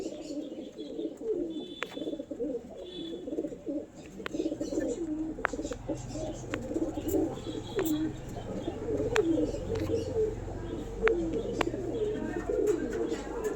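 Pigeons coo repeatedly in a home loft kept for sale, low rolling calls layered over one another with occasional higher chirps from other birds, steady and close throughout.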